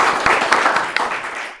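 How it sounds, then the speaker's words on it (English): Audience applause at an African chess debate event in Kenya, a short burst of dense clapping from a crowd that swells briefly and then fades out. "Please let's give a hand of applause."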